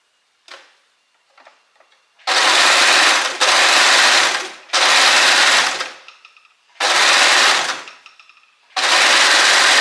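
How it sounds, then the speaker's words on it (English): An overlocker finishes the raw edges of pyjama armholes in four loud, fast bursts of rapid mechanical whirring, each lasting about a second or two, separated by short pauses with faint handling clicks. "we will then overlock the raw edges of the two armholes of this side and then also of the other side"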